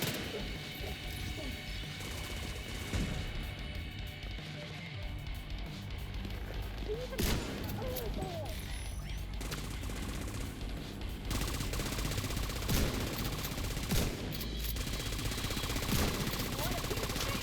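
Gunfire in The Division 2 video game: dense, continuous shooting and sharp cracks with mechanical clatter, loud throughout, with talk over the top.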